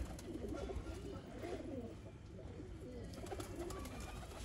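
Several pigeons coo continuously nearby, a dense chorus of soft burbling calls over a low background rumble.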